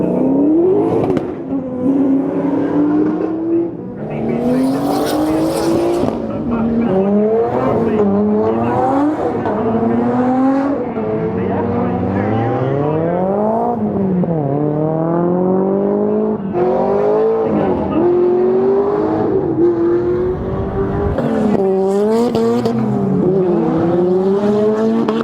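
Drift cars on the track at the Japfest JDM show rev hard and repeatedly, engines rising and falling in long loud sweeps with occasional tire squeal, one car after another, continuous throughout.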